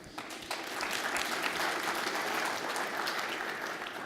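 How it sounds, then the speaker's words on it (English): An audience at an ISG SIC US 2018 conference session claps in steady, dense applause that stays loud and even for a few seconds without voices. "I'd like to give them a round of applause."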